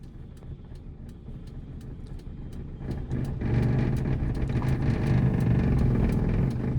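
A manual car's engine idles with faint clicking, then the low rumble swells and grows louder as the clutch is slowly released and the car pulls off, heard from inside.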